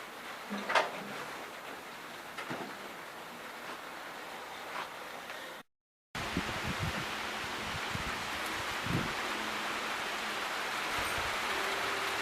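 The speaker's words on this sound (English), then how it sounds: "Raining pretty good and it's getting windy" Steady rain falls with gusting wind rustling through, a continuous wash of noise with a brief dropout partway through.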